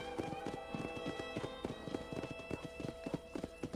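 Horse hooves clip-clop at a steady galloping rhythm in Red Dead Redemption, close and continuous over a constant musical background.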